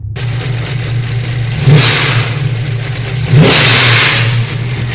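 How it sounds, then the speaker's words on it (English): A TorqStorm-supercharged engine idles with a steady low drone, then revs twice in quick bursts, each followed by the sharp hissing whoosh of a blow-off valve. "their blow-off valve is absolutely amazing. I know there's a lot of companies that make blow-off valves, but theirs sounds so good"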